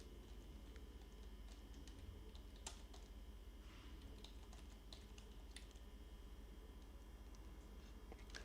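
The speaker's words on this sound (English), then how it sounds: "Why is my keyboard not working?" Soft clicks of a computer keyboard being typed on, faint and irregular over a steady background hum, with no talking.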